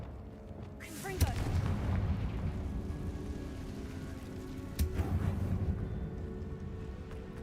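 Confringo fire spells explode in Hogwarts Legacy, with two heavy booming blasts about four seconds apart, each followed by a rumbling crackle over a steady low game ambience.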